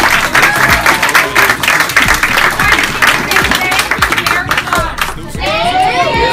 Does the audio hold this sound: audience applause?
yes